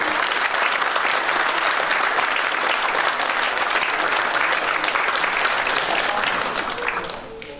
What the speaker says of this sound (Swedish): återigen en stor applåd till skolan